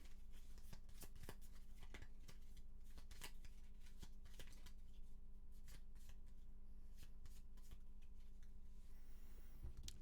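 Deck of cards shuffled at a Gloomhaven board game table, a faint run of quick riffling flutters and soft clicks going on steadily throughout.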